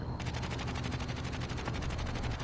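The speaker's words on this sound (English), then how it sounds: "Shooting someone." Rapid automatic gunfire in a video game rattles in a steady stream of closely spaced shots, loud and continuous throughout with no talking over it.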